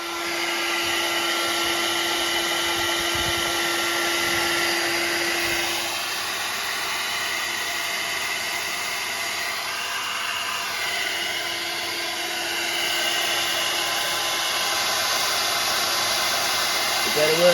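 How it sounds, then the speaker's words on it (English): An air dryer blows on a wet Vaillant boiler that has a water leak and a faulty circuit board. A steady, close hiss of rushing air carries on without a break for the whole stretch. "we'll get the air dryer on that again in a minute"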